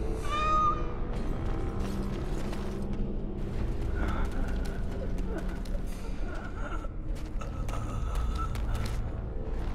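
A cat meows in the fantasy role-playing game Dragon Age: Origins - Awakening, a clear cry near the start over a steady bed of game ambience and music.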